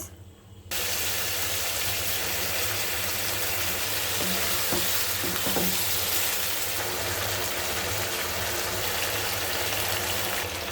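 Beef spleen pieces fry in hot oil, giving a continuous loud sizzle that starts abruptly after a brief quiet moment and holds steady, with a few faint clinks of stirring partway through.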